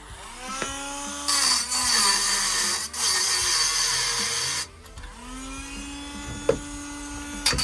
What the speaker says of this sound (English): now we're going to take the Dremel tool and remove this piece